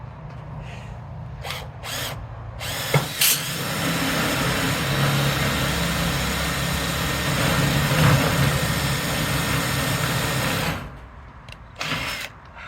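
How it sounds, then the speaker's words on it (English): A power drill driving screws into a metal building whirs steadily for several seconds, close and loud, over a low engine-like hum, stopping and restarting briefly near the end. "You got the drill going in the right direction?"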